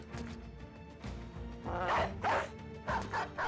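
A war dog in the medieval tactics game Battle Brothers gives a few sharp, close barks in quick succession over a low musical backdrop.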